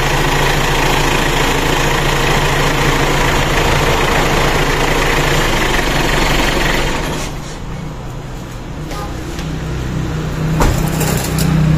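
A Mitsubishi Pajero Gen 2 with a 4M40 diesel engine idles steadily and loudly up close, a continuous rattling hum that drops off partway through as the engine is shut down, leaving a quieter rumble.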